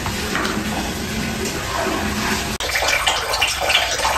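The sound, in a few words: water poured into cooking pan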